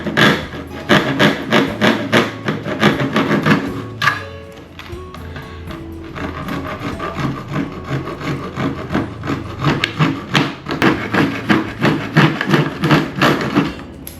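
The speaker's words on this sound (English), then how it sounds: "We're going to use our Japanese saw and saw out these lines." A Japanese pull saw cutting through PVC pipe, producing rapid, rhythmic rasping strokes up close and loud, with a short pause partway before the steady sawing resumes, with no talking.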